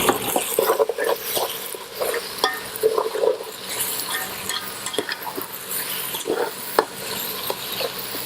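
Green chillies and tomato stirred into sizzling beef liver fry in a pan, with continuous close scraping and stirring, clinks of a spoon against the pan and a low frying hiss underneath, no talking.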